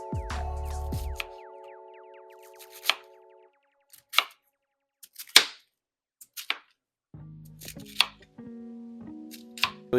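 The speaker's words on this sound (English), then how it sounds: "Slice up the onions." A knife slices onions and cabbage on a cutting board, with a handful of separate crisp chopping knocks spread out irregularly amid other kitchen clatter and near silence.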